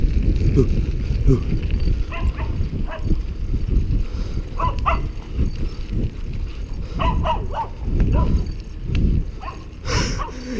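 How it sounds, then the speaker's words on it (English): A dog barks in short, sharp bursts during a bicycle ride, with rustling movement and a person speaking around the barks, at moderate distance. "That dog's nasty."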